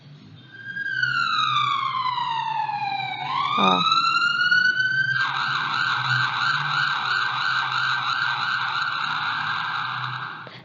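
A loud siren wails, sweeping down then rising into a rapid warbling yelp that continues steadily, with a brief voice near the start.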